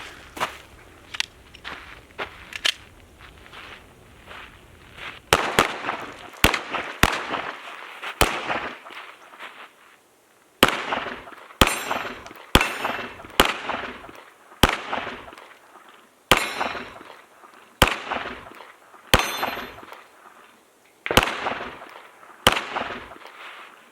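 Shots from a handgun fired with Winchester forged steel case ammunition at outdoor targets, a long series of sharp close reports in uneven rhythm, some spaced and some in quick pairs, with a brief pause midway through.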